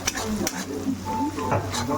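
Chowmein frying in a pan with sauces sizzles steadily, broken by several sharp stirring clinks and scrapes of a utensil against the pan, heard close.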